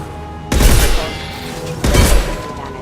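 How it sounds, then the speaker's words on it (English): Two heavy high-impact weapon shots in the Mass Effect 2 video game, each a loud, close blast with a rumbling, crackling tail, spaced about a second and a half apart. "Firing a high impact shot!"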